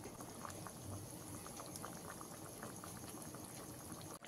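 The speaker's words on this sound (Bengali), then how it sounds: "গ্রেভিটা ফুটে গেছে।" Chili chicken gravy bubbling in a pan, a steady close hiss of boiling liquid with dense popping bubbles that continues evenly throughout.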